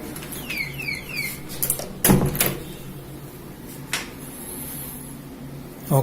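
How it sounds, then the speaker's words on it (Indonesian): A hotel room door opens with an electronic key card lock: a few short clicks and a sharp mechanical clunk of the latch, then a quieter thud, over a low hum of room air. "Kita buka pintu kamar."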